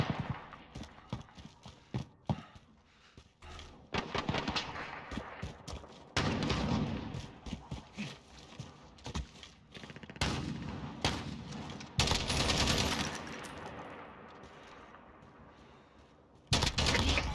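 Bursts of gunfire in Call of Duty: Modern Warfare, sharp shots and rapid volleys starting and stopping, mixed with thudding footsteps and clattering effects.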